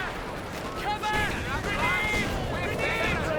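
Battle din from Company of Heroes 2, with incendiary grenades and gunfire rumbling as a steady, dense wash of shots and blasts, while a commentator talks over the action throughout.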